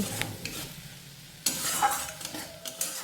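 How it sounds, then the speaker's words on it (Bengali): Masala with a little water frying and being stirred in a pan: a quiet scrape or two, then a sudden loud burst of sizzling that keeps hissing steadily, close up. "মিশিয়ে নেওয়ার পর এর মধ্যে অল্প জল দিয়ে মশলা ভালো করে কষিয়ে নিতে হবে।"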